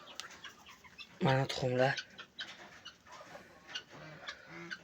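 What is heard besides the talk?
chickens clucking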